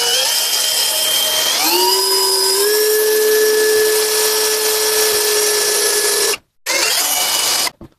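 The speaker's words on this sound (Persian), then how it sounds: "حالا با سنباده یا فرچسینی میگیرم روش" A sander or wire brush whirs steadily against a motorcycle cylinder head valve, a loud continuous tone that rises and then holds, with two short gaps near the end.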